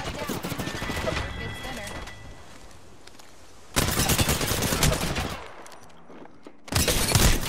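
Rapid bursts of gunfire crackle in a shooter game, loud automatic volleys separated by a quieter lull and ending in another burst, with a voice speaking over part of it.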